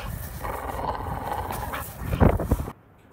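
A house dog, meant to be a guard dog, whimpers and pants near the microphone, breathy and restless, rising briefly louder before falling silent.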